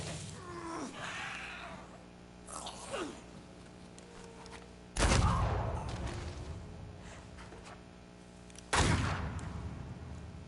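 Gunshots in the video game The Thaumaturge, two sharp, loud cracks a few seconds apart over a steady game soundscape, with earlier swooping tonal effects and no speech.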